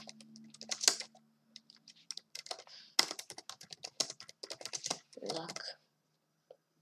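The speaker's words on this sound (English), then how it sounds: "Accidentally type like 2 smiles" Rapid, irregular clacking of a computer keyboard being typed on during an online chess training session, close and clear, in uneven bursts with a short pause and a faint voice underneath.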